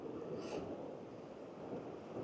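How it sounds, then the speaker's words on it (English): Ocean waves crashing on a beach in Ireland as the tide comes in, a faint, continuous wash of surf blended with wind buffeting the microphone, with no one speaking. "look the way those waves are crashing over there now"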